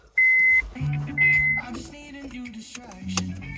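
Two steady electronic beeps, each lasting about half a second, separated by a short gap, followed by background music and faint clatter.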